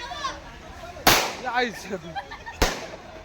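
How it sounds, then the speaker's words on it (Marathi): Firecrackers going off at a Tulsi Vivah celebration, two sharp loud bangs about a second and a half apart between stretches of excited voices and background chatter. "मित्रांनो दोन्ही साईडला फायरिंग चालू आहे"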